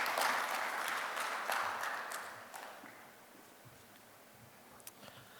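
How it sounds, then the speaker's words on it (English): Applause from an audience at a net-zero knowledge series session, moderately loud at first and thinning out, fading to a few scattered claps toward the end. "A big round of applause to all our people who have joined today"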